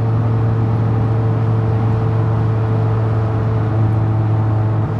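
Inside a 1990s Toyota Celica VII cruising at 120 km/h, the engine and road noise form a loud, continuous low drone with a steady hum and no talking.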